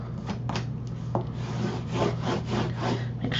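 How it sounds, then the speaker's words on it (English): Paper is burnished onto a craft tag album with repeated close, steady rubbing strokes in a continuous scratchy rhythm. "we're going to come back and just burnish"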